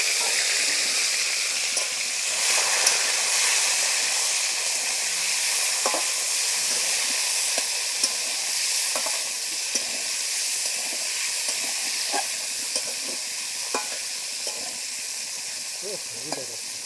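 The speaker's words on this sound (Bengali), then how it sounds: "কুচে মাছ আমি লবণ হলুদ মাখিয়ে অল্প কিছুক্ষণ ভেজে নিলাম" Salted, turmeric-coated kuche eel fish frying in hot oil in a wok, a steady loud broadband sizzle with occasional sharp crackles and pops, continuous throughout with no talking.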